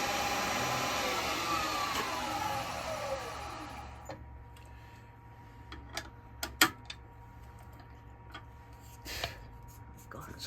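A wood lathe spins a freshly sealed small Goth bowl, giving a broad whirring rush that sinks in pitch and fades over about four seconds, then near quiet broken by scattered clicks and knocks.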